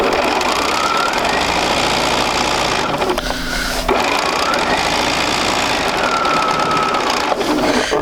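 A sewing machine stitching quilt block pieces, a steady loud mechanical whir with a brief pause midway, heard close up.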